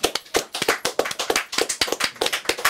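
Rhythmic hand clapping from a studio audience after a keyboard performance, the claps falling in a fairly regular beat, moderately loud and close.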